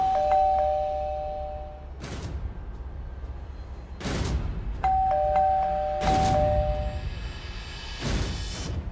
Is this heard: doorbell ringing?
yes